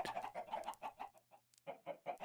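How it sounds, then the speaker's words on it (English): Chickens cluck in a Minecraft cliffside village, giving a close, quick series of clucks that pauses briefly and then resumes, with no voices. "how did we get so many chickens?"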